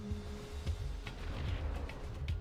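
Dull booms and thuds of Scud launcher artillery in C&C Generals Zero Hour, a dense, continuous battle rumble with several sharper impacts scattered throughout.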